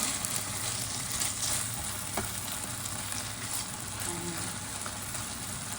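Pork strips stir-frying in a pan until crispy, with a steady, dense sizzle and crackle that runs unbroken throughout, close and fairly loud, with no talking.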